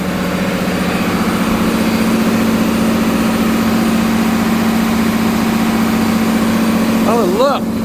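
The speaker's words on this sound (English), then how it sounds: "Down here is the engine room." Engines running in a ferry's engine room on a two-hour crossing to Bantayan Island, a loud steady droning hum with a constant low tone, ending in a brief warbling whine.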